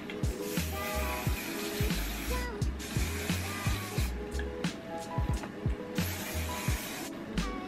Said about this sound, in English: Let's go ahead and add some hairspray.